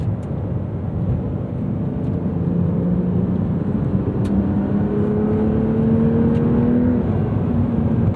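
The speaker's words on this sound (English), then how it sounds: "for a modern turbocharged engine, it doesn't actually sound all that bad" A turbocharged 2026 Porsche 911 Carrera T (992.2) accelerates with a steady muffled engine drone from inside the cabin, pitch rising gradually through the gears under broad road and tyre noise.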